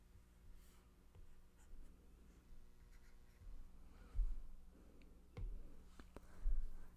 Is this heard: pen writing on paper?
yes